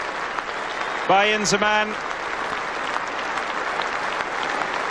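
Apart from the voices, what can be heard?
standing ovation applause at Lord's Cricket Ground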